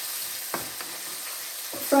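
Oil sizzles steadily in a pan while frying wraps, a constant hiss with a few louder crackles and clinks of a utensil.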